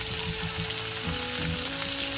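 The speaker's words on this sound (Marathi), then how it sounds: "लसूण पण टाकूया." Garlic fries in hot oil for matar paneer, a steady, dense sizzle that stays loud and even throughout, with no voices.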